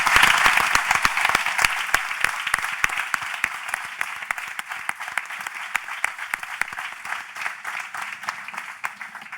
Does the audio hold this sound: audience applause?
yes